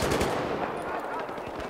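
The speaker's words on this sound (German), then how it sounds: "da schießt, glaube ich, der auf uns" Rapid automatic gunfire from the Battlefield 3 multiplayer video game crackles in a dense, loud burst of overlapping shots.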